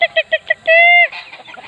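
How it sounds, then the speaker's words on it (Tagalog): Chickens on a demo farm cluck in a quick run of short calls, then one holds a longer drawn-out squawk before more scattered clucks follow, close and fairly loud. "Ayan, ang dami pong mga manok."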